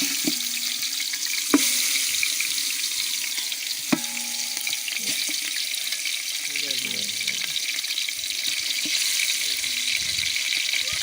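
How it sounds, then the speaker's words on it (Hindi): Chopped goat meat sizzling and crackling in hot ghee, a steady bright frying hiss with a couple of sharp clanks and stirring sounds, with faint noise underneath. "अभी हमारा घी गर्म हो चुका है तो अभी इसके अंदर हम गोश्त डालेंगे।"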